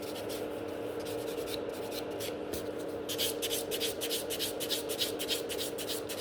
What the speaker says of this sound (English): I'm filing only at the top when I'm filing fast